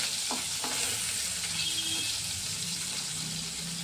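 Steady sizzling of paneer frying in a pan, with a few faint clinks and scrapes early on; no voices.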